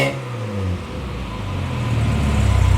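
A Morris Minor engine running through its new exhaust, a steady mid-pitched rumble that dips briefly and then swells as the revs rise, loud and close with no talking.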